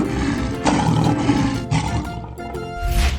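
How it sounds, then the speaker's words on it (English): A lion in a 3D animal video game gives loud, rough roars in several surges, close and alone, with game sounds faintly underneath. "lion,"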